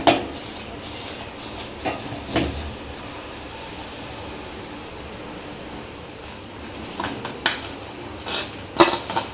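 A metal spoon stirs pounded jaggery into milk in a pot for a festival prasadam, making scattered clinks and scrapes against the pot over a quiet room hum, close and intermittent.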